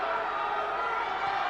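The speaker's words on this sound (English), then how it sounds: "just hear that Charlton crowd" A home football crowd at a Charlton women's match cheers after their team takes the lead, a steady broad roar of many voices heard from within the stadium.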